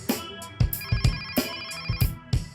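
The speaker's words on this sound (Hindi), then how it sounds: "तुम्हारा फोन बज रहा है" A phone rings in a Hindi TV drama scene with a musical ringtone: steady electronic tones over a punchy beat, loud and close, playing alone for a couple of seconds.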